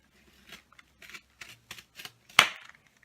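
Paper being cut with scissors along a line, a series of soft, quiet snips ending in one sharper, louder cut, all close up with no talking.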